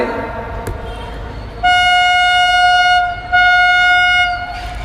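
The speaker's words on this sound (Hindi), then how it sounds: "ये रेलवे स्टेशन या रेलवे पटरी के करीब में प्रोग्राम होता है ना, बहुत डिस्टर्ब होता है।" A train horn sounds near a railway track, two long loud steady blasts with a short break between them, after a stretch of rumbling rail noise; a voice talks briefly at the start.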